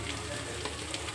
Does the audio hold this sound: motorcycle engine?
no